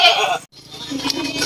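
Goat bleating at a Vietnamese goat-selling farm, where buyers have come to pick breeding goats; a brief nasal bleat opens, then a pause, followed by faint farmyard noise and murmuring voices nearby.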